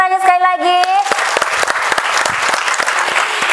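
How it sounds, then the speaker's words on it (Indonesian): A speaker's voice opens, then a roomful of PKK women at a community herbal-medicine cooking event in Kediri burst into loud, dense applause that continues steadily to the end. "Boleh saya minta tepuk tangan sekali lagi?"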